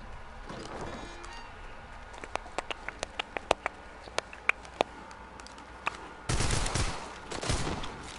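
Gunfire in the Arizona Sunshine VR game: a run of sharp, evenly spaced single shots cracking out one after another, followed by a denser, louder burst of noisy impacts near the end.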